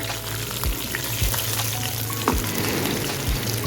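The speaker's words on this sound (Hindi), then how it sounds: "ऑयल गरम होना शुरू हो गया है तो हम इसमें 2 चम्मच चॉप किया हुआ लहसुन लेने हैं" Chopped garlic hits hot oil in a pan for Punjabi sarson ka saag, giving a steady close sizzle and crackle with a few soft knocks of a utensil, no talking.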